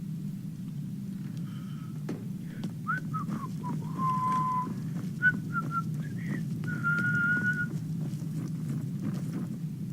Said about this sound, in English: Honestly, the whistling probably makes it even more suspicious.